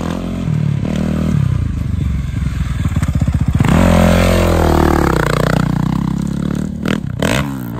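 Motorcycle engine revving hard after a wheelie, a loud rising and falling roar with rattling clatter and scraping, close to the microphone and filling the whole stretch.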